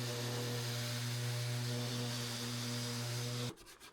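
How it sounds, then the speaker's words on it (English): Steady whirring power sander with 180 grit on wood hums loudly with a constant droning tone, then cuts off abruptly, leaving softer hand-sanding rubbing and scraping noises. "Everything gets sanded."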